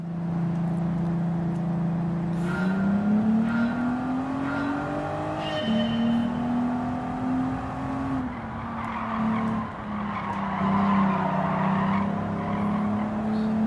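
Race car in Gran Turismo 7 revving hard and accelerating through gear changes, engine pitch climbing and dropping continuously, with tire squeal and skidding layered over the loud, steady engine drone.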